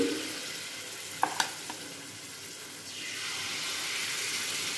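Semolina and ripe mango batter drops into hot oil with a steady, close-up sizzle, a couple of sharp clinks near the start and a broader hiss swelling in the second half.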